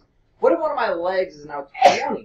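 A person talks during a math lesson on right triangles, then a short, sharp sneeze bursts out right after the voice stops.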